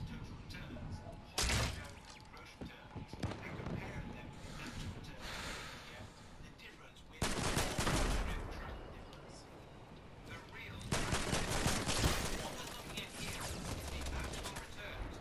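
Gunfire in the Fortnite video game, dense bursts of shots and blasts rising and falling across the clip, heavy clusters near the middle and end, with game sounds around them.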